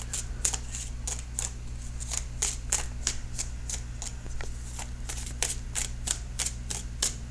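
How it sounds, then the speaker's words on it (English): Tarot cards are shuffled up close in quick, even riffling flicks, a steady rhythm of crisp papery snaps over a low constant hum, with no talking. "So I'm shuffling for that outcome card."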